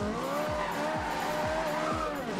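An Italia sports car spins a pirouette in Forza Horizon 2: tires squeal continuously while the engine note swoops up and down in quick repeating surges, about twice a second, loud and close.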